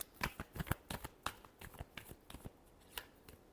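A quick final shuffle of a tarot deck, short dry flicks and taps of cards close by in a brief uneven flurry, no talking over it.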